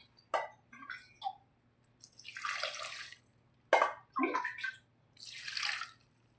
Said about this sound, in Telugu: తర్వాత ఫ్రెండ్స్ తగిన వాటర్ అయితే పోసేసుకున్నాం